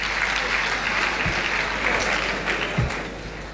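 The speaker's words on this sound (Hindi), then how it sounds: "बहनों और भाइयों तालियां।" A concert audience applauds at a 1971 live show as a singer is called to the stage, a steady rush of many hands clapping with a couple of low thumps near the start and end.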